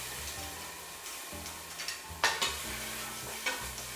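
Pepper paste and garlic sizzle steadily in hot oil for shrimp saganaki while a utensil stirs and scrapes the pan, with a few sharper clinks near the middle.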